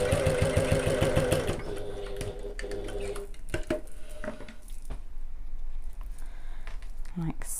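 A sewing machine basting fabric for a bag runs in a fast mechanical whir for about a second and a half, then gives way to quieter handling clicks and fabric rustling close by.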